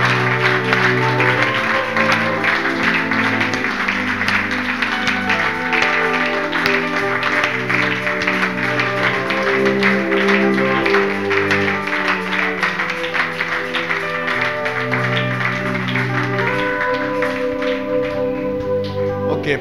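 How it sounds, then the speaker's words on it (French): Church congregation at a Sunday service applauding loudly and continuously as the pastor comes forward, dense clapping mixed with music and crowd voices throughout. "Pendant que le pasteur s'avance, nous nous levons pour acclamer le Seigneur fortement."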